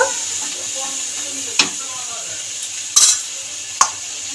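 Spice paste being stirred with water in a pan while cooking Bengali matar paneer: a soft, steady sizzle and scraping with a few sharp clinks of a spoon against the pan, close and fairly quiet.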